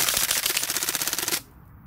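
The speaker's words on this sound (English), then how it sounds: "let's see if the short magazines can pull off a full auto mag dump." A modified gas blowback PP-2000 airsoft gun with a short magazine fires a full-auto burst, a fast rattling string of about twenty close, loud shots that stops abruptly after about a second and a half.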